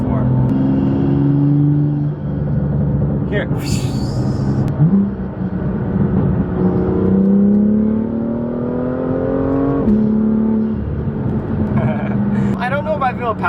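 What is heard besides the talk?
Porsche GT4 engine intake noise while accelerating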